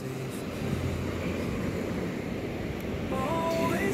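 Ocean surf at a beach rolls in as a steady, broad wash with wind noise over the microphone, no clear voices.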